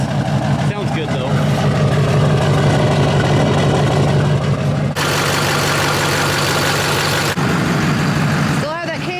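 A Duramax diesel pickup with freshly replaced head gaskets idles steadily as it warms up, a loud, close, continuous clattering rumble that holds throughout with a brief shift in tone partway.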